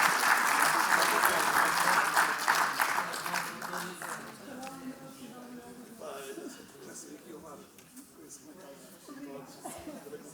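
Applause for the panel and moderator of a round-table event for Coach's Day, strong clapping for about four seconds that thins out, followed by chatter and people talking as the room settles.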